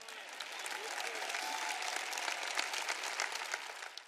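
Audience applause during a sermon by a preacher, a steady crowd clapping heard at a moderate distance, sustained evenly for the whole stretch with no speech.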